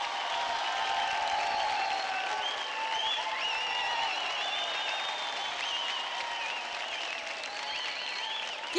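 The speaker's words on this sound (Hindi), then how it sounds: "जोरदार तालियां" Loud, sustained audience applause on a dance TV show, a dense steady wash of clapping from a large studio crowd, with faint cheering mixed in.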